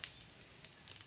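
Crickets in a tropical home garden give a steady, shrill high-pitched trill that holds throughout, fairly faint, with slightly stronger pulses near the start and end.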